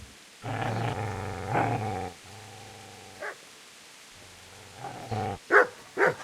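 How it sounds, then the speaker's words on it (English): A dog in the video game Kingdom Come: Deliverance growls low and rough in several separate bursts, then gives sharper yips and barks near the end, close and loud with quiet gaps between. "Get away, you mutt!"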